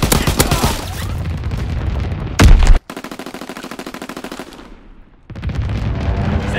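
Anti-aircraft gun firing in Call of Duty WWII: loud, rapid bursts of automatic fire with a heavy boom partway through, a brief cutoff, then another sustained burst that fades and resumes.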